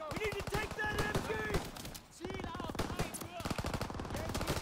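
Machine gun fire from the World War II shooter Call of Duty WWII rattles in fast, dense bursts with a brief pause midway, loud and continuous, with voices mixed into the battle.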